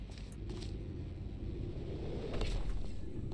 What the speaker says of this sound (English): that turned on the tractor beam.